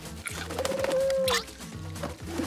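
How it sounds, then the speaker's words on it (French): Pigeons coo in a repeated, low, rhythmic pattern in a French-dubbed animated family cartoon, with a brief rising whistle-like tone in the middle and no talk over it. "Ah, ces pigeons sont complètement fous!"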